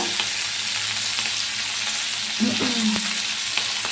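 Tomato dropped into a hot frying pan, a steady bright oil sizzle that runs throughout, with soft stirring clatters and a brief bump partway through.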